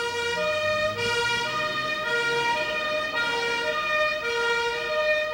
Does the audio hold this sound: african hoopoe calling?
no